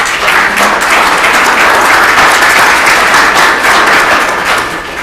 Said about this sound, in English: Now we can applaud all of them.